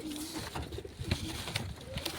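Pigeons coo softly in a village loft, several low, rounded calls that overlap in an uneven rhythm, close by and fairly quiet, with light rustling in the background.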